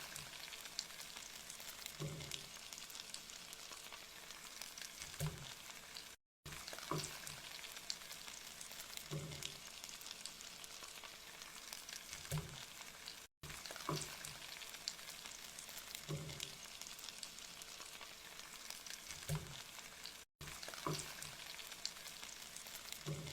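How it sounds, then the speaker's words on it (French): Bell peppers sizzle and crackle as they grill in a pan, a soft, steady frying hiss with faint occasional stirring taps and no talk. "Et là j'ai mis les poivrons à griller."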